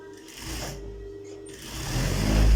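A sewing machine stitches a children's pillow, its motor whirring steadily and close, growing louder and rougher toward the end as it runs faster.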